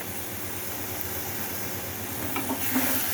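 Tomatoes hit a hot, sizzling pan while mutton biryani is being cooked, giving a steady close frying hiss with a slight rise in crackle toward the end.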